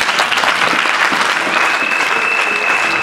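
A church congregation applauds together in sustained, dense clapping that fills the space loudly and evenly, with a faint high whistle-like tone running through the second half.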